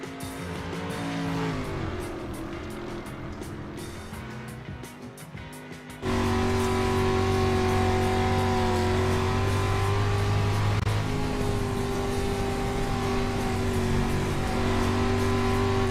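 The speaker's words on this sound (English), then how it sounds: "We see the first cars, of course, getting out on track" Race cars in a sim racing game pull out onto the track, their engines droning and revving steadily, louder and closer after a jump partway through, with no talk.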